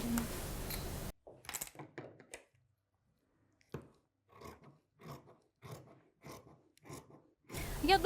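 Fabric being cut for a high-waisted, wide-leg pants pattern: a run of separate crisp scissor snips with quiet gaps between them, close and fairly soft, with louder handling noise at the start and end.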